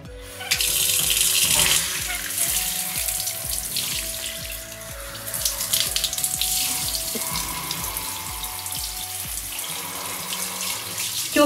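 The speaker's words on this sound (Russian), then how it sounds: "И теперь я включаю теплую водичку." Warm water runs from a tap while a staghorn fern (Platycerium) is watered, a steady close splashing stream with faint tonal ringing and slight shifts in flow.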